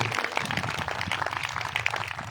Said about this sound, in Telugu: చప్పట్లు కొట్టి దేవునికి స్తోత్రాలు